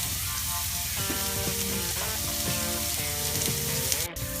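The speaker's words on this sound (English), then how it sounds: "This is going to be a big, huge sizzle." Steady loud sizzling of skirt steak frying in a hot skillet, a continuous crackling hiss throughout with faint background music-like tones.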